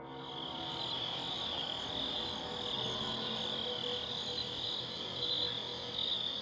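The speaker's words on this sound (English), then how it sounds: "catches nothing but crickets chirping under a night sky" A steady, high-pitched chorus of crickets chirping in the night, continuous and even, with a faint background hum and no voices.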